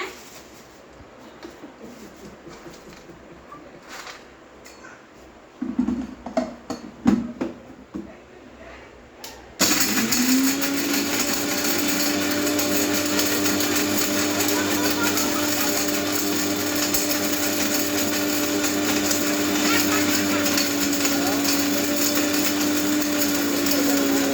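Electric kitchen mixer grinding dried herbs such as valampuri and idampuri pods into powder for herbal hair oil: quieter clattering and knocks at first, then a loud, steady high-pitched motor whir running continuously to the end.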